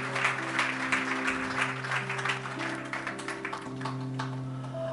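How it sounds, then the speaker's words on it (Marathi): Applause at a Marathi Christian worship gathering, a broad steady crowd clapping texture sustained for several seconds with a low organ-like tone humming underneath. "सो प्रभूला जोरदार टाळ्या वाजवून आम्ही धन्यवाद देऊया"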